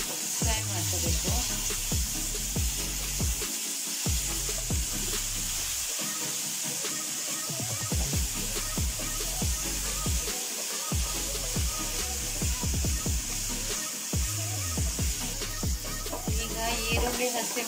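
Tomato, ginger and garlic sizzle steadily in hot oil for a chutney, a constant frying hiss running throughout beneath rhythmic background music.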